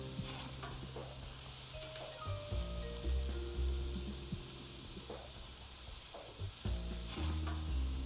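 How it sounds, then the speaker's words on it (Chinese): New York steak and potatoes sizzle steadily on a barbecue grill, a constant close hiss with low rumbles and occasional clanks from handling on the grill. "那我们现在呢，我们的牛排和土豆呢已经放在烤炉上了"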